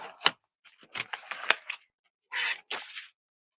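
Scissors snip off excess material from a piece, a series of short cutting strokes with a couple of longer crisp rasps near the end, close and clear with no talking.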